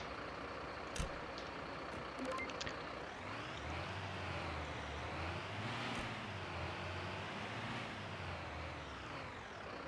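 Fire truck in Notruf 112 pulling up: a steady low diesel engine rumble grows and holds, joined by a few short high beeps and a hiss, moderately close.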